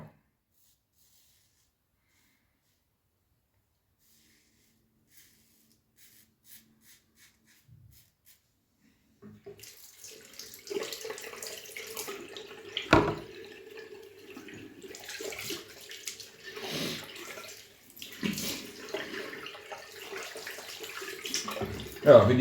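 Water from a tap runs into a black sink. After long near-silence it starts up close, then flows and splashes steadily with uneven surges until the end.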